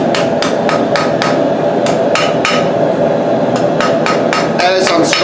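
Hand hammer strikes a knife blade on an anvil during forging, a loud steady series of about a dozen sharp metallic blows in uneven rhythm, close up, over a constant roaring background like a forge fire.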